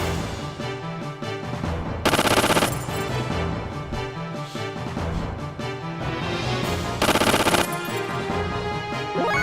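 Heavy repeated gunfire from a main gun in the video game Xenogears, loud sustained bursts with two especially intense volleys, set against dense battle music and effects.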